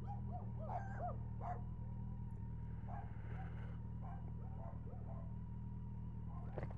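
Dogs bark and yip in a residential street, several short scattered barks and whimpers at a distance over a low steady rumble of traffic or wind.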